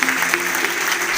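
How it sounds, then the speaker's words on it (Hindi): Audience applause breaks out in a hall, dense and steady clapping from a crowd at close range with a faint voice underneath. "एक बार जोरदार तालियां चाहूंगा उनके लिए"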